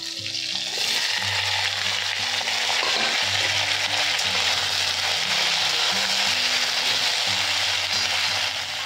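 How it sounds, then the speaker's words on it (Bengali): Panch phoron seeds and a bay leaf fry in hot oil for a cauliflower curry, a steady close sizzle with crackling pops and a low hum beneath, and no voices. "ফুলকপির তরকারিটা করব, এর জন্য একটুখানি পাঁচফোড়ন দেব ফার্স্টে, আর একটা তেজপাতা দিচ্ছি। এগুলোকে একটুখানি ভেজে নেব।"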